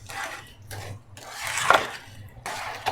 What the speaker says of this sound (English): So we stir it till it's mixed,